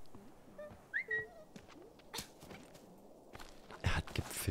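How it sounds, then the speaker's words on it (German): A character whistles in the video game Planet of Lana, a short rising whistled note heard twice early on, fairly clear over a soft ambient game background with scattered footsteps and swishes. "Er hat gepfiffen und es hat funktioniert."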